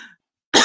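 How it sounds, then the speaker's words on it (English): A single harsh, loud cough bursts out close to the microphone after a brief pause, preceded by a faint trailing vocal sound. "Sorry, I'm coughing over here."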